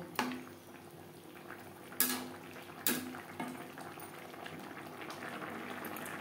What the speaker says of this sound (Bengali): গ্রেভির সাথে মাছ আরও 3-4 মিনিট রান্না করব।